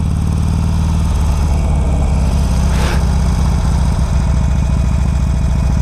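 A 2006 Harley-Davidson 883 Sportster motorcycle engine runs continuously with a loud, throbbing low-pitched chug close by, steady throughout with a brief airy whoosh near the middle and no voices.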